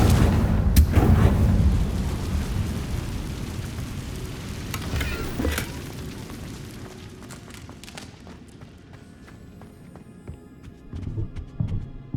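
Confringo blasting spells exploding in the game Hogwarts Legacy, heavy booming blasts at the start followed by sharp cracks, with the rumble gradually fading into quieter crackling debris and a few later hits.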